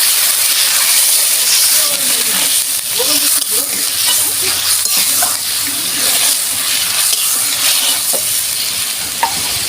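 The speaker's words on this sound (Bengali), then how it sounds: "এবার আমি জল দেব।" Water poured into sizzling spice paste that has been fried until the oil separates, in a pan for Bengali doi potol; a loud, steady hiss and crackle with stirring runs throughout.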